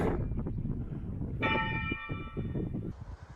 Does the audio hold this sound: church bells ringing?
yes